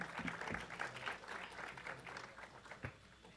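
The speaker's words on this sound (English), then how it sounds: "warm round of applause for our guests, Aquma, MollySoda" An audience applauds guests at the Fantastic Arcade 2018 event, a faint, distant wash of many hands clapping for a few seconds with no talk.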